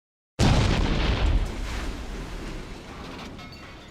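A huge Big Bang explosion effect from a cosmic animation bursts in sharply after a short silence, then rumbles deep and loud and slowly fades over several seconds.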